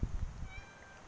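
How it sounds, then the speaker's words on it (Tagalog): A cat meows on a rooftop near large solar panels, a short, faint, rising cry heard outdoors amid low background rumble. "May kasama akong pusa."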